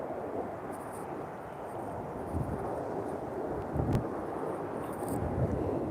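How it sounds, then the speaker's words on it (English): A fighter jet passes out of sight overhead, a distant broad roar rumbling beneath wind buffeting the microphone, steady throughout. "Look, you can hear the jet. That's a fighter jet."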